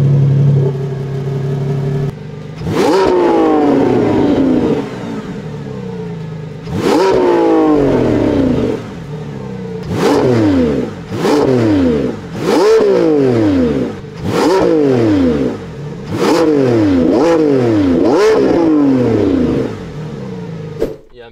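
A Lamborghini V12 engine starts, then revs again and again in sharp bursts, each roar rising and falling over a lower idle rumble, loud and close.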